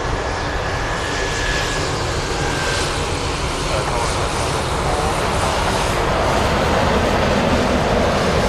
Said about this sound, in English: FedEx 777 on the move.